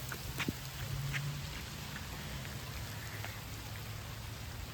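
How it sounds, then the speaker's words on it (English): Rain falls steadily during a tornado-warned thunderstorm with strong wind gusts: a faint, even hiss of drops with a low rumbling wash underneath and a few scattered louder patters. "All right, the rain's here."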